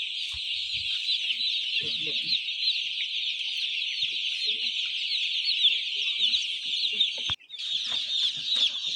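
A large batch of chicks delivered in crates to a poultry farm fills the air with a dense, continuous high-pitched peeping chorus, steady and loud, broken only by a brief gap near the end.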